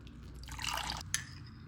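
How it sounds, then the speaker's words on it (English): Water poured into a cup of organic instant coffee, a short, soft liquid trickle with a few drips near the end, quiet and close with no talking. "Now you're just going to add some water."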